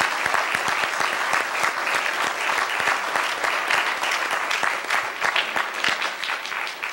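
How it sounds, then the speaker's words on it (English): An audience at a 2012 political debate applauds the candidates with loud, sustained clapping, dense and even with sharp individual claps standing out, no speech over it. "It would not be inappropriate at this time for you to applaud them"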